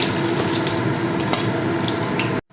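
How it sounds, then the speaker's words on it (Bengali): Nigella seeds dropped into hot oil while cooking a hilsa dish give a steady, close, loud sizzle and crackle that holds evenly for about two and a half seconds and then cuts off abruptly. "এবার ওই তেলের মধ্যে আমি একটু কালো জিরে দিলাম"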